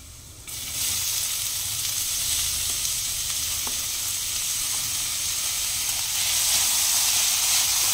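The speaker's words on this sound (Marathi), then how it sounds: "लसूण परतून झाल्यावर ह्याच्यामध्ये कांदा घालूयात।" Onion sizzles steadily in hot oil with sautéed garlic in a pan while vegetable filling for momos is prepared, a loud continuous frying hiss with a faint stirring scrape and no talking.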